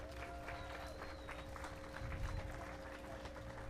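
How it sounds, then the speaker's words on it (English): Applause from a crowd at a youth poultry and rabbit dress-up contest, a steady patter of clapping at a moderate distance over a low background hum. "Let's give everyone another round of applause."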